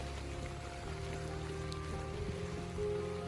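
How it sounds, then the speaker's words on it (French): Steady rain falls across a farm field of butternut squash in late summer after drought, a dense, even wash of patter with a low background hum, continuous and fairly close, no voices. "On entend la pluie qui tombe là."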